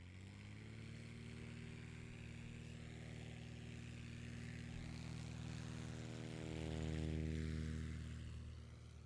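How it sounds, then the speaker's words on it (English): A STOL airplane takes off at a competition at Gainesville, Texas, its propeller engine droning steadily and rising in pitch, then swelling louder as it passes close before easing off. "Very nice, clean takeoff."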